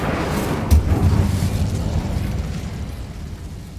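Incendio fire spell cast in Hogwarts Legacy, a loud, close burst that whooshes into a roaring, rumbling blast and then slowly dies away.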